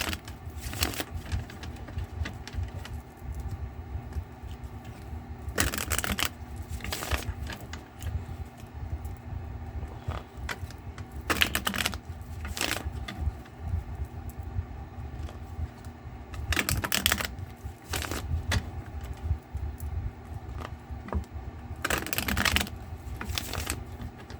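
Bursts of tarot card shuffling, a riffling flutter repeated every five or six seconds, with a steady low hum underneath.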